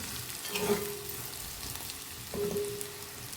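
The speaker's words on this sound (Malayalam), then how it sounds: "പച്ചമണെല്ലാം മാറുന്നവരെ ഒന്ന് ഫ്രൈ ചെയ്തെടുക്കാം." Bitter gourd masala fries in a pan, a steady close sizzle with soft stirring scrapes that swell briefly twice.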